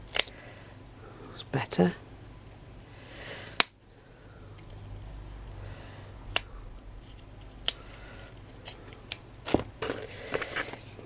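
Scissors make a few crisp cuts in material for a miniature fireplace, with sharp isolated snips and clicks spaced out over quiet room noise, and a voice speaks briefly.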